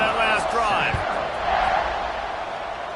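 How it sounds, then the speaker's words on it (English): A packed stadium crowd in an American football video game roars in a steady, loud wash of cheering that holds for the whole stretch and eases slightly toward the end. "this crowd is feeling themselves after that last drive"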